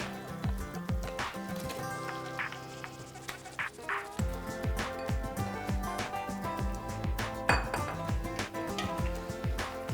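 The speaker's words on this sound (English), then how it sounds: "Now I'm adding in 1 kg of meat pieces." One kilogram of mutton pieces goes into a pot of fried ginger for biryani, heard as a busy run of metallic clinks, knocks and scrapes of utensils against the pot, close and fairly loud.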